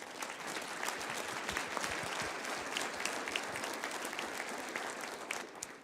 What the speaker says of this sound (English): if we could give our panel a round of applause